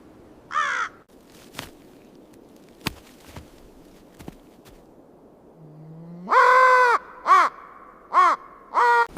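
A raven calls out over snowy winter ridges. One harsh croak is followed by soft crunching steps, then a loud burst of four croaking caws close by.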